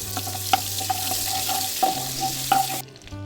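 Butter dropped into hot white oil in a pan for lemon rice gives a steady, bright sizzle with a few utensil clinks, then cuts off abruptly near the end.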